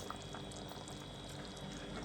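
A steady pour of coconut water into a simmering dry fish curry, continuous and bubbly, fairly quiet with no voices.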